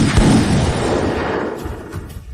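A volley of gunfire in an animated comic battle scene, a loud dense burst of shots and booms that merge into a rumbling roar and fade out, heard with no talking.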